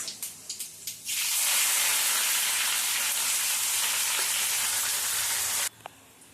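Clove, cardamom, cinnamon, cumin and onions hitting hot oil in a kadai for a chicken curry, bursting into a loud, steady sizzle after a few small taps and crackles, then cutting off abruptly near the end.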